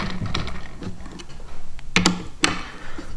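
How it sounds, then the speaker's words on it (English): Quick ratcheting clicks and short metallic turns from a T-handle driving bolts into a rigid plastic firewall on a kayak, a few sharp bursts close up over a low background hum. "you can take your T-handle"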